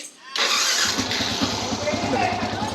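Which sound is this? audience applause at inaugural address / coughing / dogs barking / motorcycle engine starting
motorcycle engine starting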